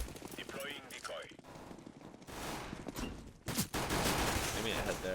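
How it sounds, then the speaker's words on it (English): A decoy grenade in Counter-Strike fakes gunfire with bursts of rapid popping shots that grow louder and denser toward the end. Someone talks over the first part. "Deploying decoy."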